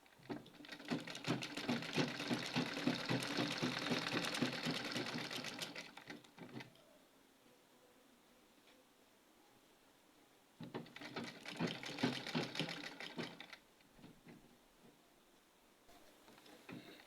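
Sewing machine stitching fabric for a rose-patterned sleeve, running in two loud sustained bursts of rapid, steady needle chatter separated by a quiet pause, then faint handling sounds.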